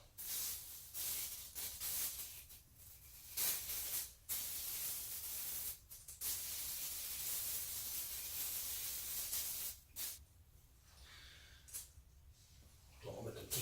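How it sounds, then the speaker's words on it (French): Aerosol hair mousse sprayed onto the scalp over a bathtub, a series of close, loud hissing bursts of varying length with brief pauses between them, while a person talks in French. "Je vais appliquer la mousse, je le fais directement au-dessus de la baignoire"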